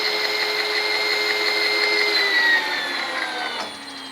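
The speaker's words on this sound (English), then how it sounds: "the power feed is very noisy in rapid" A lathe's power feed runs in rapid with a loud, steady whining drone, close up and unbroken, its pitch gliding slowly downward before easing off near the end.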